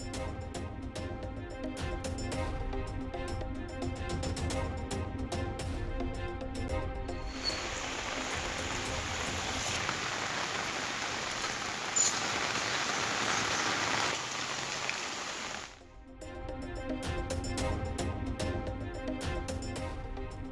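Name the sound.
heavy rain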